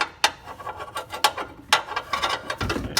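A wrench works loose a transmission cooler line on a Ford Fusion, producing close, irregular metallic clicks and scraping rubs in short bursts.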